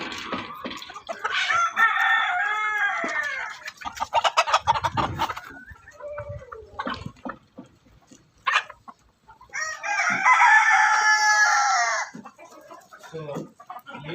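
Desi chickens on an urban rooftop farm in Pakistan: roosters crow loudly twice and hens cluck in bursts between, close by and with no talking.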